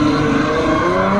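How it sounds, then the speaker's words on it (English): A Ferrari V12 idles loud and close at the start line of the Kop Hill Climb, a rich, steady multi-cylinder drone with a slight rise in pitch. "Ferrari V12."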